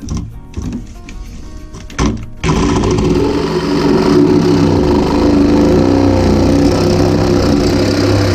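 A Sawzall reciprocating saw cuts steadily during a microwave rangehood duct installation, starting after a couple of brief bursts and then running loud and continuous with a buzzing drone, close by.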